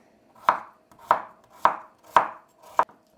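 A knife chops through potatoes onto a board in five evenly spaced, crisp strokes, close and clear with nothing else around.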